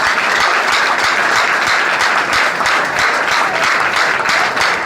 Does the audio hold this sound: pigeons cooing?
no